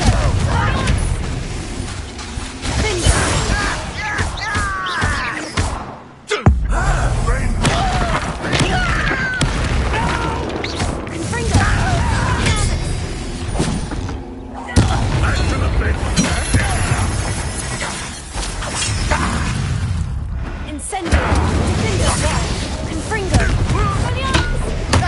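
Fire spell cast in the Hogwarts Legacy video game during a tense duel, a dense crackling, booming burst amid constant battle noise, with shouted dialogue and voices throughout.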